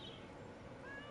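Cat meows and purrs when petted in the video game Lies of P, a soft, steady wash of sound with a faint higher mew near the end, fairly quiet throughout.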